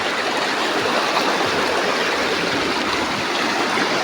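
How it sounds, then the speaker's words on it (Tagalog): A natural stream flows outdoors in a steady, full rush of water, continuous and fairly close, with no voices over it. "Tubig."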